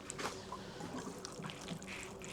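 Water poured onto chilli seed plugs in a propagator tray, a faint, quiet trickle and splashing heard alone, with no talking.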